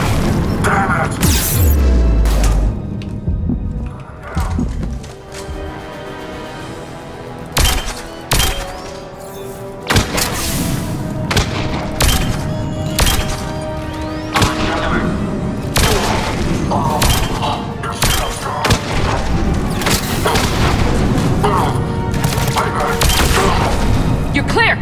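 A fancy gun firing in the video game Mass Effect 3, repeated heavy booming shots and thuds amid dense combat noise, with someone talking over parts of it.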